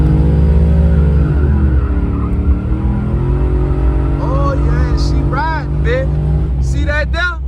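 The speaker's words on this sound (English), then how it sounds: "Watch how this old box Chevy come out the hole from a standstill, baby." A box Chevy with a 408 stroker engine pulls away hard from a standstill, its deep, loud exhaust roar rising steadily and staying up close, while excited voices shout over it toward the end.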